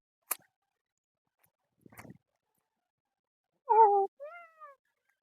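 A cat gives two short meows close by, each a quick, rising-then-falling call. Before them come a few sharp isolated taps and clicks against an otherwise silent background.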